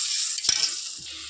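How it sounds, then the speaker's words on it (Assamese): Leftover cooking water from mustard and spinach greens is tipped into a hot pan and hisses in a loud, continuous close-up sizzle, broken by a brief clatter of the pan. "এই শাকৰ পানীখিনি মই ইয়াতে দি দিলোঁ"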